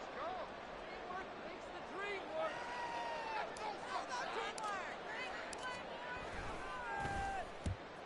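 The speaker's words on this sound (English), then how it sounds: "I'm starting to detect an uneasy murmur through this crowd" Steady crowd murmur fills a stadium in the Madden 24 football game during a fourth-down punting situation, a continuous moderate hubbub with scattered voices rising and falling, and commentary-like speech mixed in.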